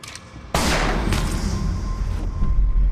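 A sudden burst of rapid, loud gunfire erupts in an action film scene aboard an airplane, shots ringing and echoing over a noisy background.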